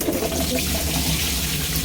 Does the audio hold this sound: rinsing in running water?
yes